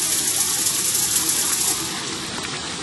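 A garden fountain shaped like an egret spits a steady stream of water into a pond, fed by a submerged recirculating pump, making a continuous close gushing splash that softens slightly toward the end.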